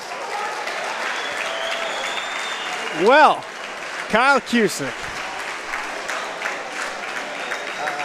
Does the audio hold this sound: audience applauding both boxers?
yes